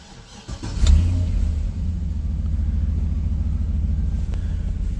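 A dumper truck's engine cranks and catches, then settles into a steady, loud low rumbling idle that continues to the end, heard close with no talk.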